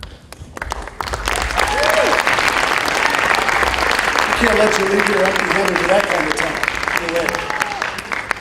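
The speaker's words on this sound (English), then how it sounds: "go ahead and give them a round of applause as they come off" Crowd applause for youth finalists at the CASA Schenectady Raise Your Voice event, loud and sustained under an amplified host speaking into a microphone, with some tonal sounds mixed in.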